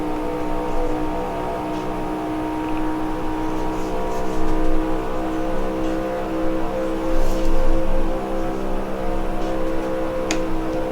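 Stock car engine at full throttle in the NR2003 racing game on the Ontario track in a 1971 race, a loud, steady droning roar with a constant pitch held flat out, alone without talk.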